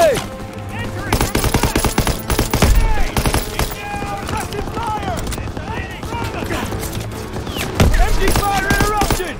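Machine gun fire in the World War II shooter game Call of Duty WWII: rapid, loud bursts of automatic gunfire in combat, mixed with shouted voices and other shots.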